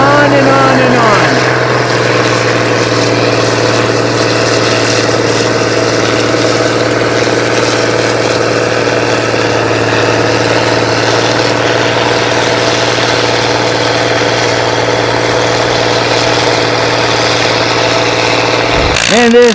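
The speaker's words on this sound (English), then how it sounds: "And this is a tractor and plow of the past. The Ford tractors." Antique Ford tractor engine running steadily while plowing at a tractor plow day in northern Maine, a loud continuous mid-pitched drone with a strong hum, close by, with talk present.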